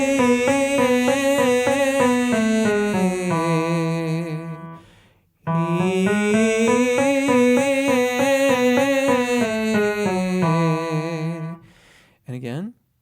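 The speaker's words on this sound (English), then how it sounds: "In brief, try to make a small crescendo over the duration of the trill." A sung note ornamented with a rapid trill, swelling slightly in loudness, then repeated after a short pause, ending with a brief final note.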